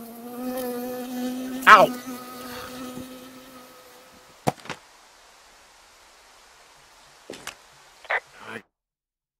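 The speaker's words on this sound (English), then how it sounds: "I got stung by a bee." Insect buzzing from a bee in the Firewatch video game, a sustained harmonic drone over the first few seconds that fades out, followed by a few brief sharp sounds; a voice briefly cries out in pain.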